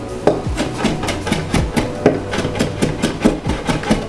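Rhythmic knife chops on a wooden board as a vegetable is cut into planks and then strips, steady close taps about every third of a second.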